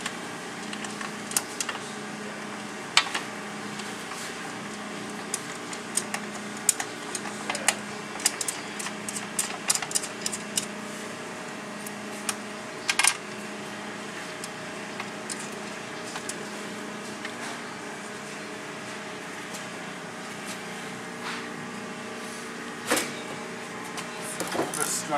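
A hand ratchet turning a half-inch socket to snug door bolts during an upper door install, heard as quiet bursts of fine rapid clicks spread across the clip, with a steady low hum behind them.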